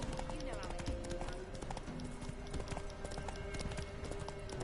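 Horse hooves clip-clop at a galloping rhythm in The Witcher 3, a steady run of hoofbeats under a voice talking throughout.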